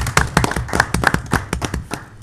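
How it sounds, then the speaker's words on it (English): Small group applause for veterans at a city council meeting in Country Club Hills, with a few distinct hand claps in a loose, sparse rhythm, close and moderately loud, with no talking. "let's give our veterans a round of applause"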